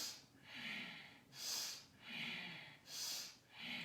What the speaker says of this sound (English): So it sounds like a sniff.